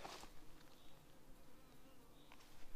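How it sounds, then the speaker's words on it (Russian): A soft, continuous buzzing of many honeybees close by at the hive, drying the day's nectar, a steady hum with individual insects briefly flying past. "Пчелы работают, сушат сегодняшний принос."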